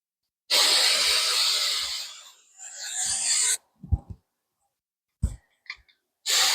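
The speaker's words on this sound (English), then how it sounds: "And then I like Tresemme" Tresemme hairspray from an aerosol can sprays in a long, steady hiss for about three seconds, followed by a few soft clicks and handling noises, and then a second short burst starts at the end.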